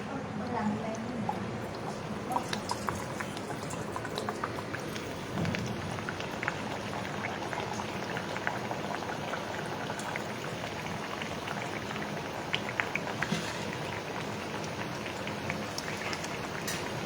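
Puris frying in hot oil on a gas flame kept at medium, a steady dense crackling sizzle with scattered louder pops, continuous and close throughout.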